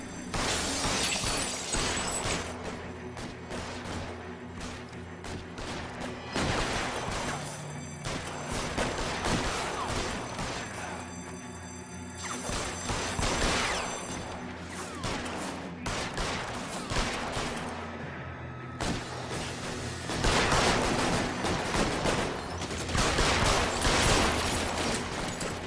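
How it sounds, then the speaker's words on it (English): Sustained gunfire in the PS3 game L.A. Noire, with dense, loud bursts of shots and crashing impacts running almost nonstop over a rumbling game score. "Okay, a lot of shooting."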